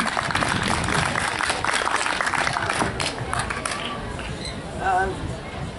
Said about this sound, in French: Merci André, on l'applaudit, merci